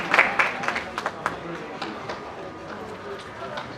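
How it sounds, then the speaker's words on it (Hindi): At a Rotary Club charter and musical night, an audience claps to welcome the chief guest. The clapping is loudest at the start and thins into scattered claps, with a voice speaking over it. "हम जोरदार तालियों के साथ स्वागत करना चाहेंगे"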